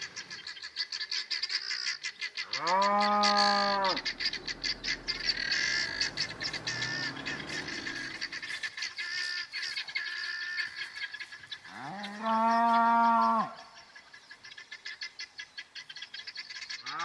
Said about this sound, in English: Today we went to provide nutrient supplements to the beef-master cattle in one of the remote camps.